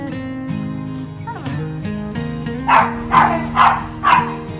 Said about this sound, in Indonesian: Itulah anjing tetangga sebelah itu guys yang bikin serem ya. Selalu menggonggong kalau ada orang gitu guys.